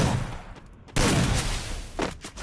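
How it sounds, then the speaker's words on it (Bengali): Gunfire in the mobile battle game Free Fire: a few sharp broadband bursts, one loud blast followed by a sustained roar and a couple of later shots, close and loud with no talk over them. "এখন আমি হেডশট মারবো লাস্টের দিক দিয়ে"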